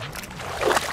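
Lake water sloshes softly around legs wading near the shore at Lake Biwa during bank bass fishing, a brief close swish that swells slightly toward the end over a steady low background.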